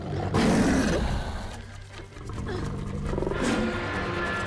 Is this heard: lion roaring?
yes